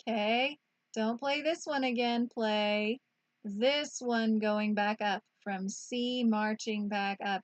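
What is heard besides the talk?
None of the usual background noises is heard.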